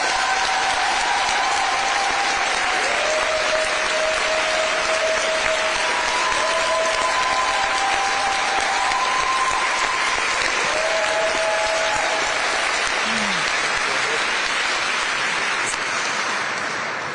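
Audience at a Minnesota press event on gun safety applauds warmly to welcome a Moms Demand Action volunteer to the podium, sustained, even clapping from a crowd lasting the whole stretch without a break.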